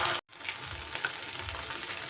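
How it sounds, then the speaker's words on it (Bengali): Steady crackling sizzle of banana stem pieces coated in cornflour frying in hot oil, close and continuous, with a brief gap near the start. "দেখুন কত স্মুথলি এগুলো কিন্তু ভাজা হয়ে যাচ্ছে"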